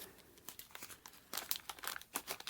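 Close crinkling and rustling of a thin plastic bag holding network cable connectors, irregular bursts growing louder as the wrapping is pulled open.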